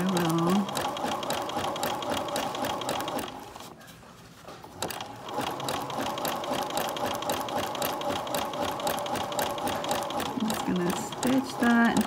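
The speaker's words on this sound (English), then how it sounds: "The zigzag is going to stitch over the edge." A sewing machine running a zigzag stitch over a fabric edge, a fast rhythmic mechanical clatter, loud and close, pausing briefly partway through before resuming.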